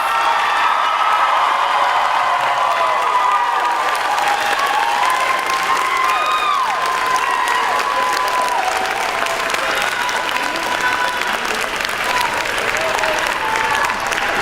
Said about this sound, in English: Please honor all of our graduates with a round of applause.